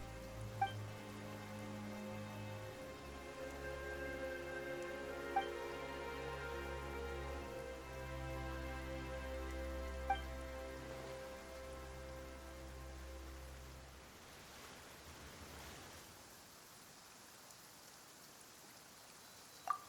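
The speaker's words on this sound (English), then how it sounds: "Why is it raining all of a sudden?" Steady rain patters in Genshin Impact, a continuous soft hiss over a low game music drone, with a few faint chimes before the music fades out near the end.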